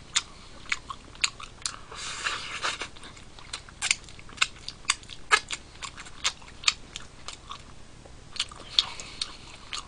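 Chewing fried chicken with rice during a mukbang: close, crisp crunching and biting clicks repeat steadily against a soft background hiss, with no talking.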